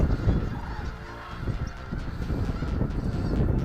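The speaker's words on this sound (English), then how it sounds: "That is a large quantity of snow geese." A large flock of snow geese honks in a dense, overlapping chorus at a moderate distance at Bosque del Apache, New Mexico, continuous and busy, with a low rumble underneath.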